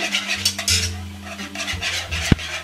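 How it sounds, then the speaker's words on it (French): A utensil scrapes and clinks in a bowl while stirring lumpy, thickening eggless lemon tart filling, with quick rhythmic strokes and one sharp knock near the end. "Donc on va mélanger."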